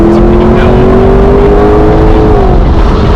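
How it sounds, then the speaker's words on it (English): A Lexus LC 500 convertible's V8 revs loud and close through its active exhaust, a steady throaty drone that rises slightly in pitch, then drops off near the end. "The V8 and the noise it makes are absolutely the party pieces of this car"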